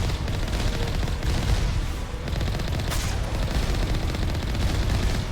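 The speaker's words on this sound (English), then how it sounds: "Oh, they got a lot of rockets." Rockets and heavy weapons fire in the sci-fi shooter game Mass Effect, a dense, loud barrage of booms and rattling shots pounding continuously with little pause.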